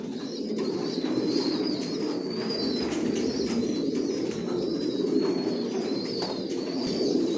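Grizzle racer pigeons coo steadily in a loft, low throaty calls rolling on over a constant murmur from the flock, with a few high chirps riding above.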